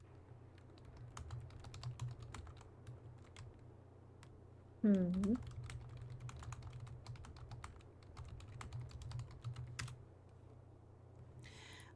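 Computer keyboard typing, steady and fairly quiet, runs under a low hum through the whole stretch, with one brief murmured voice cutting in near the middle.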